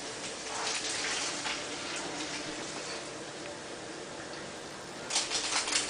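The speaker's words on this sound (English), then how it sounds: "once your meat is browned and ready to go, we're going to drain it" Grease from browned ground meat drains off for about six seconds as a steady pouring hiss, ending in a brief louder splashing burst.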